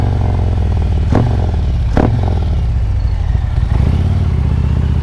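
Harley-Davidson motorcycle with a 124 or 128 big bore kit and TTS 250 cam idling loud and close, a steady thumping rumble with a couple of brief clattering blips.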